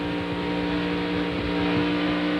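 A racing truck's engine drones with a steady, strongly harmonic tone as the driver pedals the throttle coming off a corner, the pitch wavering slightly, loud and continuous with no talk over it.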